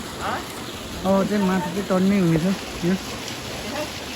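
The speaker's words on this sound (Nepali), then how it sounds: "ल यसरी पानी फाल्दै गाई।" Water is bailed out of a stream by hand to catch fish, giving a scattered splashing and dripping beneath a voice.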